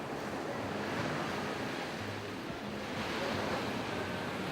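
Steady surf washes continuously onto a shore, a broad even hiss of breaking waves with wind, no voices.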